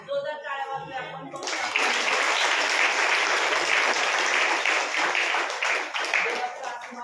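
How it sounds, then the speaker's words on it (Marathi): A church congregation claps loudly after a prayer, a dense, sustained burst of applause that starts abruptly and continues at full strength, close and filling the room. "जोरदार टाळ्या वाजवूया आपण."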